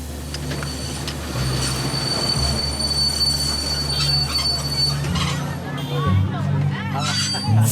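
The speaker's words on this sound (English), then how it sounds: "He can feel the train losing speed. And eventually, it comes to a complete stop." Congolese train slowing to a halt, loud metallic wheel squeal and rumbling carriages with rising and falling screeches, background chatter of passengers under the grinding rail noise.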